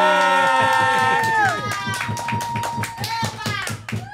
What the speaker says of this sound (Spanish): Quiero que reciban con un fuerte aplauso a Joan.